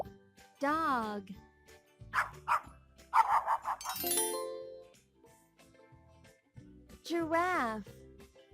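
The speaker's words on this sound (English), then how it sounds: "Dog." A dog barks in a few short, sharp bursts spread among quieter gaps, with a higher whine or yip near the end. The calls sound fairly close and moderately loud.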